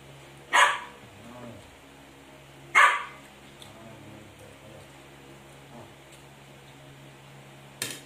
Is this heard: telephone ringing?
no